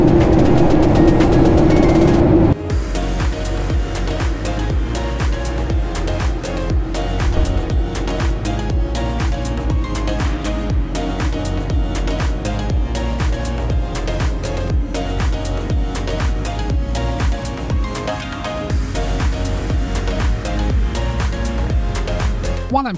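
A steady, loud roar of engine and airflow fills the cabin of a battered old Air North Boeing 737 in flight, a constant broadband drone with faint rattles throughout.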